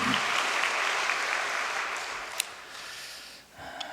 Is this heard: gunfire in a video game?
no